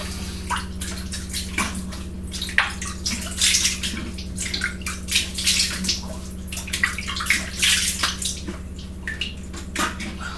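Tap water runs and splashes in irregular bursts nearby as a razor is rinsed, with a faint steady hum underneath.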